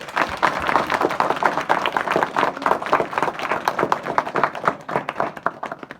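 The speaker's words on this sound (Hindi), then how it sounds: "छात्र छात्राओं ने इसमें प्रतिभाग किया, उनके लिए जरा जोरदार तालियां बजाएं।" Students and audience at a school Children's Day event clap steadily, dense rapid applause with no pauses, moderately loud and sustained throughout.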